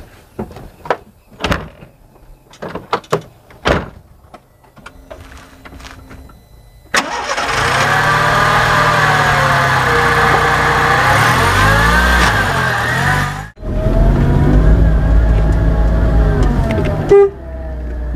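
Small car heard as a door thumps several times, then the engine cranks and fires, idles loudly and revs up and down, cuts briefly and resumes, close and loud without talk.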